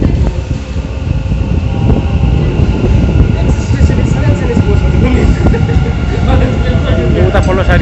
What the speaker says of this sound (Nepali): मेट्रो आयो अब